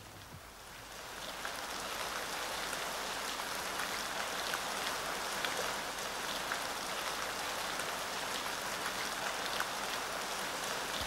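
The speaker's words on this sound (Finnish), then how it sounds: "Kohta sataa vettä" Steady rain falls for over ten seconds, a dense even hiss of drops with occasional sharper patters and no voices.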